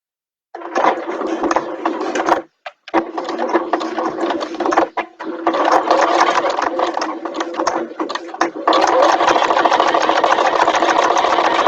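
A close, loud sewing machine stitches a bag in long continuous runs, with brief stops near the start and a steadier final stretch.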